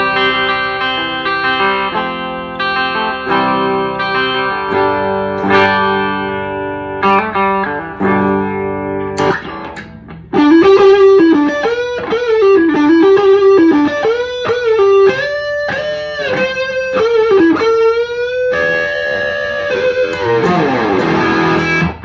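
A Slash model Les Paul electric guitar with Seymour Duncan Alnico pickups plays loud, driven lead lines with bends and vibrato over chords, continuous and close for over twenty seconds.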